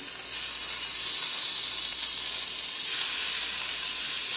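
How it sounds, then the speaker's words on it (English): Bacon sizzling in a hot, small All-Clad pan, a steady loud crackling hiss that carries on without a break and without talk. "so now I'm just adding the bacon to the pan."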